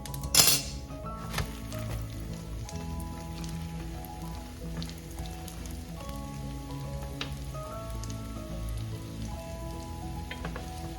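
Micro shrimp fritters (tortang alamang) sizzle in a pan over medium-high heat, with a sharp clink near the start and a steady crackle running throughout.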